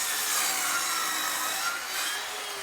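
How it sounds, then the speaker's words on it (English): A chop saw cuts 6x2 timber joists for a garden building roof, producing a loud, continuous, hissing rasp that holds steady throughout. "For these, I used 6x2 timbers, which I trimmed down to size with a chop saw."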